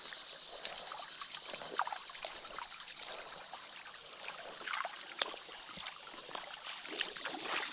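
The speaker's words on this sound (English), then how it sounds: "we're going to walk into the water" Feet wading into a shallow river along a footpath, water sloshing and trickling around the legs with a few splashy steps over a steady rushing background, close and moderately loud.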